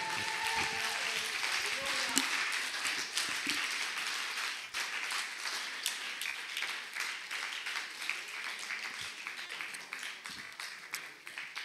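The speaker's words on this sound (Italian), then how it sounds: "Facciamo un applauso pazzo per lui stasera" An Italian church congregation breaks into sustained clapping and applause during an evening worship service, with a voice speaking over the noise at the start.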